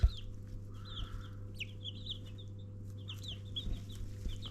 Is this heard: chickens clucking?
yes